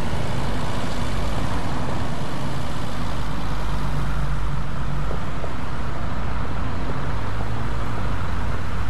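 Steady road traffic from the Bus Simulator video game: a dense, continuous low rumble of engines and tyres that stays loud and unbroken throughout, with no talking.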